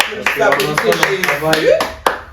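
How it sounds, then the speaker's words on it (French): An audience claps briskly together in a lively round of applause, sharp hand claps ringing over a busy background of voices. "Oh, applaudissez."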